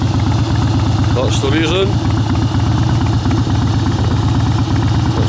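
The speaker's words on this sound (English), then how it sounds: "It's the Harley FXS Softail Blackline." A Harley-Davidson FXS Softail Blackline motorcycle idles nearby with a steady, loud low rumble throughout, while a person talks briefly over it.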